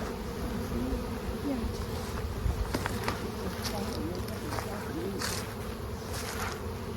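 Honeybees buzz densely around an open hive frame during a hands-on beekeeping class, a close, continuous drone with individual bees' wingbeats rising and falling, faint voices murmuring beneath.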